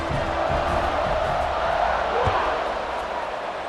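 A roaring stadium crowd in the EA Sports College Football 26 video game, an Alabama matchup, holds a broad, sustained cheer throughout while a broadcast commentator's voice speaks over it.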